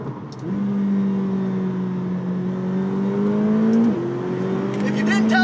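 A turbocharged McLaren 720S engine revs in long rising and falling sweeps, close and prominent, with a brief flutter of turbo noise near the end.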